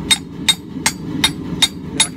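A hand hammer forges a knife bevel, drawing the steel thin over a stump anvil with a tool set in the hardy hole; six sharp metallic strikes ring out close and loud at an even, steady rhythm with no talking.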